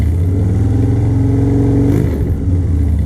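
A Harley Dyna motorcycle engine idling loudly nearby, its low throbbing rumble steady before a short rev and dip near the end, with no voices over it.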